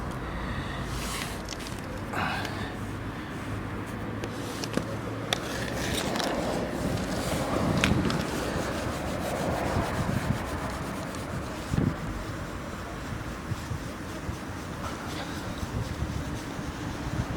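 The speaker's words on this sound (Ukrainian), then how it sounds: "Зараз наносимо цю пасту і будемо протирати" G3 polishing paste is rubbed onto the bumper of a Chevrolet Lacetti outdoors, producing a continuous close-up scrubbing and rubbing noise with faint wind and a few small knocks.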